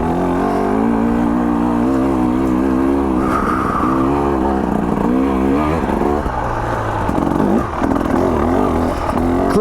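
A 2024 KTM 300 XC-W two-stroke dirt bike engine roars loudly and continuously while being ridden off-road, its pitch rising and falling with throttle changes and bumps along a wooded trail, up close throughout.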